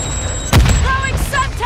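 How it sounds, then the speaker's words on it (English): A sticky grenade goes off in the Call of Duty video game: one loud, deep boom about halfway through, while a voice talks over the game sound. "Tossing sticky grenade!"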